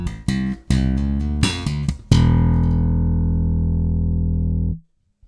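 Slap bass guitar lick with hammer-ons and octave pops, ending on a low open E: several quick percussive slaps and pops, then a loud sustained low note that rings for a few seconds before cutting off, with no voice.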